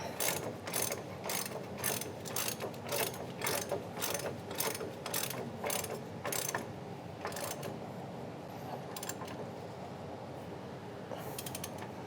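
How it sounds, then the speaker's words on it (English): A 21mm wrench ratchets on a truck shock absorber bolt on a Chevy Silverado or GMC Sierra, giving quick rhythmic clicking strokes up close, then quieter scattered clicks as the tightening finishes. "We can go back to the bottom and tighten that 21mm bolt."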